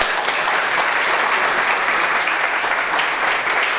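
Applause from an audience at the close of a talk at a public meeting and debate, a dense, even wash of clapping held at a steady level for a few seconds.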